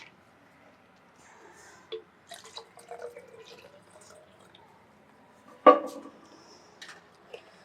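Quiet trickles and drips of water poured during a jala neti nasal rinse, with small splashes and a louder slosh midway, faint and intermittent.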